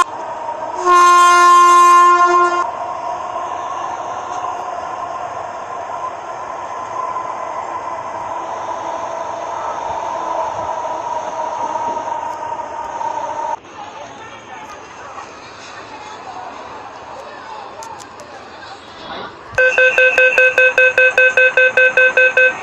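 An Indian metro train at a station platform in a mobile video game: a loud horn blast opens, then a steady rolling rumble with a platform announcement voice over it, and a second, longer horn blast sounds near the end.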